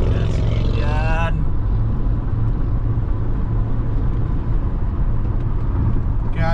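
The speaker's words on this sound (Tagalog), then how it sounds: "That's my engine." A truck engine runs with a low, steady idling rumble throughout, loud and close, while someone talks over it at the start and again at the end.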